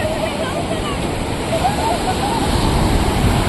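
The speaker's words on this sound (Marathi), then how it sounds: "तिथपर्यंत आवाज येत होता लाटांचा" Steady roar of surf washing in at Chivla Beach, Malvan, a continuous broadband rush with no breaks, fairly close and moderately loud.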